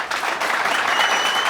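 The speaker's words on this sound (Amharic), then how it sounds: "ለነሱ አጨብጭቡላቸው" Loud, close applause fills a training seminar hall as the audience claps in unison, a dense, steady wash of hand claps with no talking over it.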